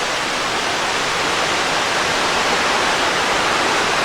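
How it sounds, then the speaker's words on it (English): A river flowing below a canyon trail at Worlds End State Park in Pennsylvania, a loud, dense, unbroken rush of water filling the whole span, with no voices. "down here's the river"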